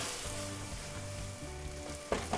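Steady crackling sizzle of pasta with bacon, egg and spinach frying in a hot pan, close and continuous, with a few sharper pops near the end.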